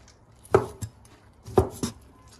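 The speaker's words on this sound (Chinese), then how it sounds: "海螺肉切片" A kitchen knife slicing sea snail meat on a cutting board, two pairs of firm, close chops about a second apart, with no talking.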